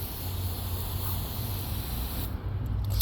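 Steady hiss of water spraying from a garden hose onto a car, continuous and fairly close, with a low rumbling undertone throughout.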